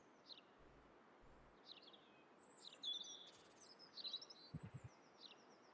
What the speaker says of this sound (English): Greenery and birdsong all around.